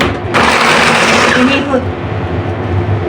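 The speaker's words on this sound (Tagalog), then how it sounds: "Ito na guys yung ating bawang na ilagay ko na sa ating food processor." A food processor chopping garlic cloves for garlic chicken longganisa, a loud whirring motor that starts abruptly after a brief pause, runs strongly for over a second, then settles into a lower steady hum.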